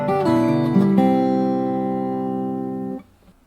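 Acoustic guitar plays the revised bar 5 of a folk instrumental in open tuning, with a few plucked notes ringing into a sustained chord that fades for about three seconds before stopping, heard alone.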